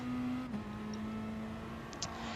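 Race car engine in the Gran Turismo Sport game, holding a steady droning note with a brief dip as it shifts down to second and back up to third, alone and fairly close.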